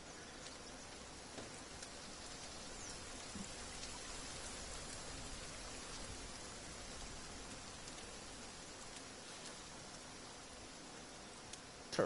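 In the survival game The Forest, rain falls as a steady, soft hiss of drops that stays even and fairly quiet throughout, with no voices over it.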